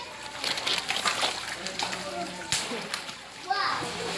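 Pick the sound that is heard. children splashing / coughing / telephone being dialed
children splashing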